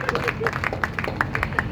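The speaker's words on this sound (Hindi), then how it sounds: "जोरदार तालियां" A crowd claps loudly at a lucky draw announcement for a plot of land, quick uneven clapping mixed with crowd babble and a voice talking over it.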